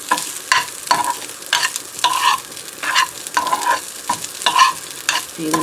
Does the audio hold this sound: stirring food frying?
yes